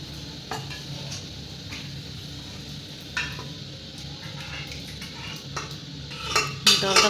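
Soaked, boiled dal softened with baking soda is stirred into spices in a pan, with a metal spoon scraping and clinking against the pan in steady, uneven strokes over a low background hiss.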